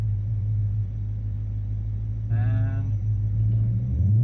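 A drag racing car at the track launches off the line: a loud, steady low engine rumble dominates throughout, with a brief burst of higher revving tone partway through and a voice speaking over it.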